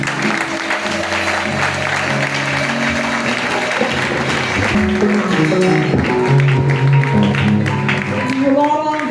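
Audience applause and cheering at a Sunday church service for a national women's day, broad clapping running throughout with music and voices mixed in underneath.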